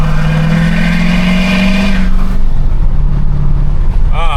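A truck engine runs loud and steady while driving, a deep rumbling drone with a shift in pitch partway through, with no talk over it.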